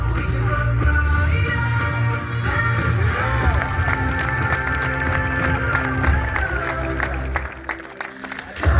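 A crowd at a village race in Dolní Lomná applauds and cheers steadily across the whole stretch, with an announcer talking over the clapping.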